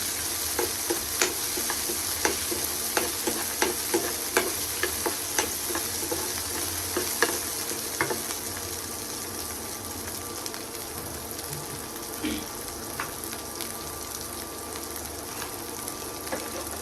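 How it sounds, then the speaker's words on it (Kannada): Green chillies fry in a pan over low heat, a soft, even sizzle with regular light stirring clicks through the first half that fade into a steadier crackle. "ಮೆಣಸಿನ್ಕಾಯಿ ಇದನ್ನ ನಾನು ಇವಾಗ ಲೋ ಅಲ್ಲಿ ಇಟ್ಕೊಂಡೆ ಫ್ರೈ ಮಾಡ್ಕೊತಾ ಇದ್ದೀನಿ"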